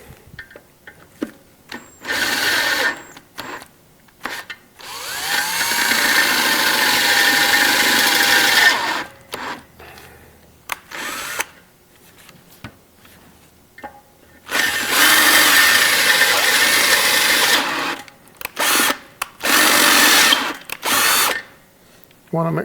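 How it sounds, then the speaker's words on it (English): A power drill bores out threaded holes in a small-block 350 engine part for re-tapping inserts, running in several bursts of a few seconds each, separated by pauses with faint handling noises. "hold this as straight up and down as you can and slowly drill these out so you can re-tap it"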